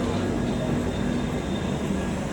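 Steady broadband rumble at Indore railway station, a continuous low drone of train and station machinery with a faint tonal hum riding on top, loud and unbroken throughout.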